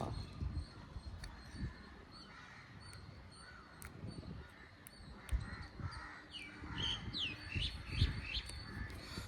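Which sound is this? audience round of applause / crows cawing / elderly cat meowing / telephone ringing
crows cawing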